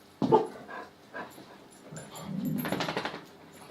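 A dog nearby gives a few short, sharp barks and yips, followed by panting and whimpering sounds.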